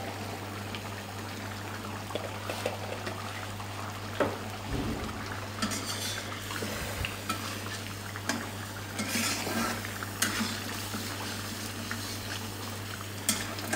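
Beef black pepper karahi stir-fried in a wok, with a steady sizzle and frying hiss and the scrape and clink of a spatula against the metal pan at intervals.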